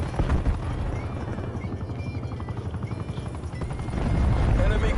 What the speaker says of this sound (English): Hostile spy plane established overhead.